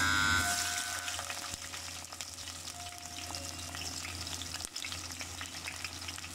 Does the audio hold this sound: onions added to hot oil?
yes